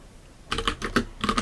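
Python code being typed on a computer keyboard, a quiet pause and then bursts of close, crisp key clicks in quick irregular runs.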